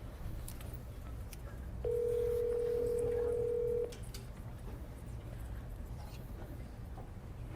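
Telephone line tone on a call to a real estate agent, a single steady electronic tone lasting about two seconds, clear above a low background hum.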